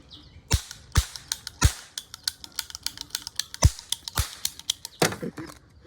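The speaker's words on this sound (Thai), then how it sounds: "เอาฟังเสียงปืนแก๊ปหน่อย" Toy cap gun firing a series of sharp cracking pops at irregular intervals, close and loud, with faint clicking between shots.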